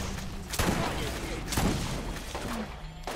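Gunfire in Borderlands, a few sharp shots spaced about a second apart over a rumbling background, with a voice talking underneath.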